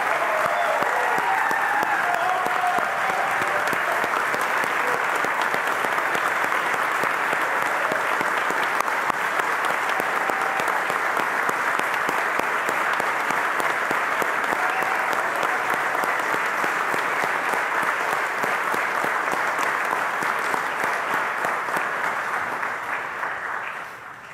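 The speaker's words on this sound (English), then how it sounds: "Please join me in a round of applause for the newest and most junior lieutenants in the United States Army." Sustained applause from the crowd at a US Army commissioning ceremony for new lieutenants, loud and steady clapping that fills the room for over twenty seconds before tapering off at the very end.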